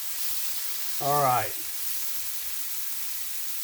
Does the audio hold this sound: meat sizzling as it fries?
yes